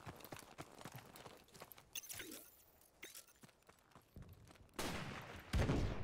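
Gunfire rings out in Modern Warfare Remastered, a team match with several players, as a scattered run of sharp reports gives way to dense, louder bursts near the end, and no one speaks over it.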